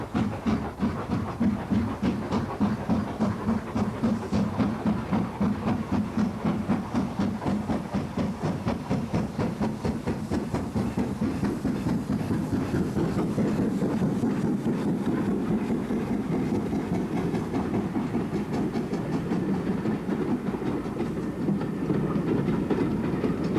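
An LMS Black Five steam locomotive, built at Vulcan Works in 1934, rolls along steadily with a rhythmic clickety-clack of wheels on rail, moderately distant and even throughout.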